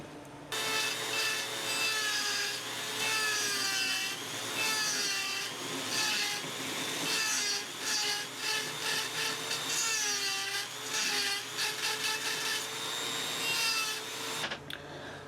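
A small handheld power carving tool works into wood for an opossum sweetheart carving, giving a steady, close, continuous grinding whine with shifting pitch and brief pauses, no talking.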